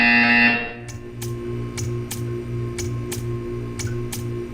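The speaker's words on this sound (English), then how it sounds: "When you hear the buzzer, stare at the art." A repeated buzzer in the video game Portal 2 sounds in a steady series of short, evenly spaced pulses over a low electronic hum, following a brief louder tone at the start.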